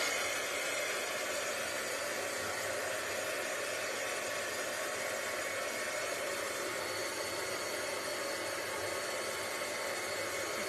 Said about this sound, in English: I'm gonna hit them with my heat gun so that I can force the drying along